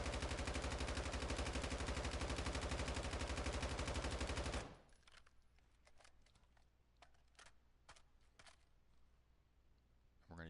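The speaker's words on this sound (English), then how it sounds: "we're going to go into full auto and just see what the recoil pattern looks like while ADS'd" A long, loud, unbroken burst of full-auto gunfire from a weapon in the Call of Duty DMZ game mode, lasting over four seconds, then sparse single clicks and faint taps over quiet background.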